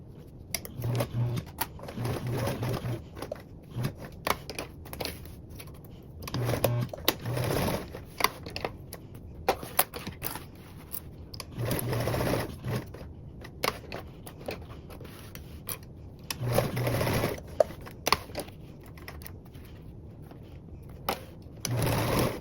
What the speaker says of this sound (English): Now baste with a 1/8 seam allowance.